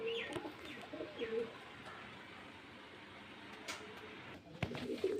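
Pigeons at a pigeon sale in Beldanga, Murshidabad coo softly, a few low throaty coos near the start and again at the end, over a faint background hum.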